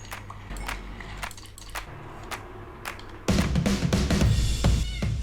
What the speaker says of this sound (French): maintenant qu'on a des chats, c'est cool